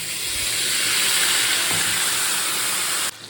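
Water hits a hot spice paste of turmeric, a little sugar and green chilli in a pan, bursting into a loud, close, steady steam hiss that cuts off abruptly near the end.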